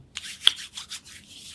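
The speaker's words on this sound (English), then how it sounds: "rub them together for at least 20 seconds or so, or until the sanitizer has soaked in" Hands rubbing together with hand sanitizer give a soft, dry swishing in several quick strokes, close and quiet, with no talking.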